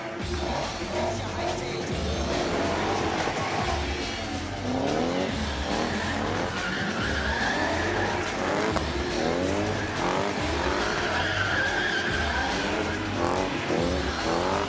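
Two cars' engines roar and rev continuously while tires squeal and skid in long sweeps, a loud, sustained burst of synchronized stunt driving.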